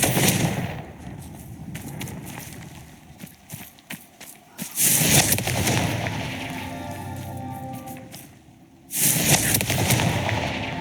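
Confringo fire spells blasting in Hogwarts Legacy: loud, broadband explosive bursts at the start, middle and end, each followed by a crackling, rumbling tail, with quieter rustling and footstep-like noises between the blasts.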